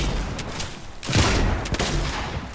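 Rapid gunfire in the video game Fortnite during solo play, a loud, dense burst of shots with a heavier boom midway, continuous over game background noise.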